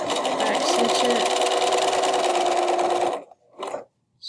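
A sewing machine back stitches a tote bag strap with a dense, steady mechanical whir for about three seconds, close and prominent, then stops, followed by brief bursts of handling noise.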